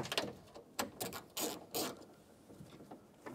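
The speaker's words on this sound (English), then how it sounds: "Take your 10 millimeter socket and loosen up this bolt over here." A ratchet with a 10 mm socket loosening a door mounting bolt on a 2009–2014 Ford F-150 during a window regulator replacement: short bursts of quick clicking, close and fairly quiet, with brief gaps between strokes and no voices.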